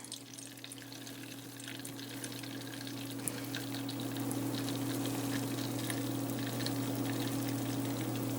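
Crème brûlée custard mixture with vanilla beans poured slowly through a fine mesh strainer, a steady continuous liquid trickle with a faint hum underneath, close and even throughout.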